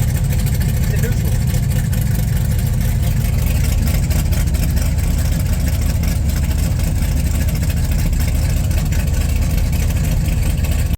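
Car engine running steadily on a test drive after a torque converter change, a loud continuous drone with road and wind noise, and no clear talk.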